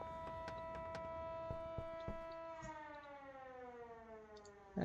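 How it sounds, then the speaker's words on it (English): Police sirens wail in the Schedule 1 video game, layered steady tones that hold level and then slowly slide downward, continuous throughout with no voices. "there goes the sirens"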